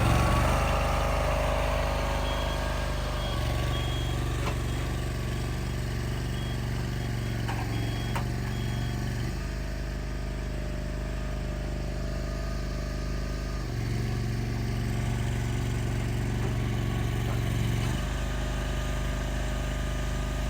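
Tow vehicle engine idling steadily, then throttling up twice to a higher, steadier drone before dropping back, loud and close with no talk, during a towing operation.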